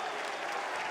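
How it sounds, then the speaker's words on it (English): Crowd at a college baseball game between Minnesota and Oregon State, a dense, steady wash of applause and cheering from many spectators, loud and continuous through the brief moment. "there's the crowd"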